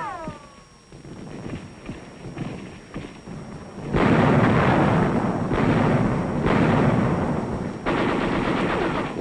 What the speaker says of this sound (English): In this support chain, the position of the artillery is close behind these men,